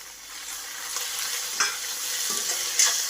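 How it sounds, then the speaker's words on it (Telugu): Onions fry in oil in a pan, a soft continuous hiss with a few faint scrapes from stirring, moderately quiet and with no voices. "ఈ ఆనియన్స్ మంచిగా ఫ్రై అవుతున్నాయి"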